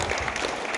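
An audience claps together at a local community gathering, producing a brief, dense burst of steady applause.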